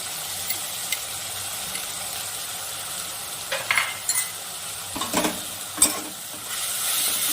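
Ginger garlic paste sizzles in a hot pan for a spicy potato and bhetki fish curry, a steady crackling fry under intermittent scraping stirs and a few clinks of the spoon, close and without talk.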